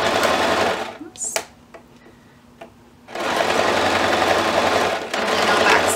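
A sewing machine back stitches elastic onto a dish towel, whirring loudly in two bursts either side of a short quieter pause.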